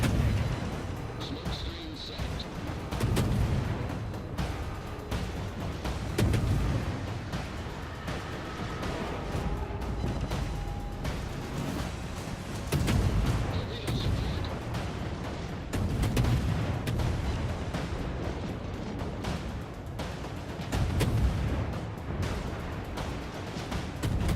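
Naval gunfire in a warship battle video game, with repeated heavy booms and rumbling salvos spaced through the stretch, steady and fairly loud, with a voice talking over much of it.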